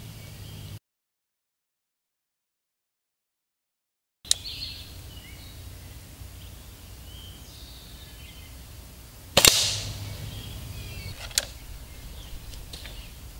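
Gamo Silent Cat air rifle firing outdoors, two sharp, fairly quiet cracks several seconds apart, the first faint and the second louder with a brief ringing tail over a low background hiss.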